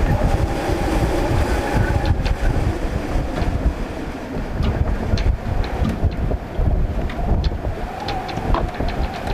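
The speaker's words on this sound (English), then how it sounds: "Pretty vicious gusts coming across here" Strong wind gusts buffet the microphone in rough, continuous bursts across a creek while kite surfing, a loud roaring rumble with no voices.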